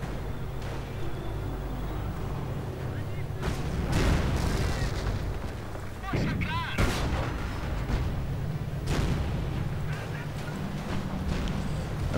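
Rocket artillery from a Calliope barrage in a World War II strategy game thumps and booms in a dense cluster of blasts, with whooshes over a constant battlefield rumble and other combat noise.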